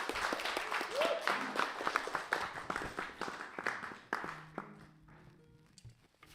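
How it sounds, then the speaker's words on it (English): Audience applause for a singer at an open mic night, a small crowd clapping fairly loudly before thinning out and fading toward the end. "Round of applause for Molly."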